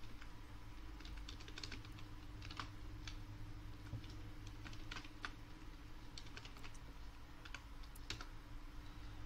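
Soft key taps on a computer keyboard enter a command, scattered and fairly quiet over a constant low hum and background hiss.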